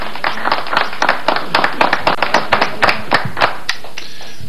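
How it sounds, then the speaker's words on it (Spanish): Audience clapping for the speaker at an event where the Bolivian president hands over nasal antigen tests, a modest group of close, distinct hand claps in a quick irregular rhythm that thins out toward the end. "Bolivia, Luis Arce Catacora, a quien saludamos con un fuerte aplauso."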